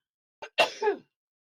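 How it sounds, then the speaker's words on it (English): A single sharp sneeze, a quick intake followed by a loud burst, close and alone in quiet surroundings. "You know me, I'm a 2 or 3 sneeze person."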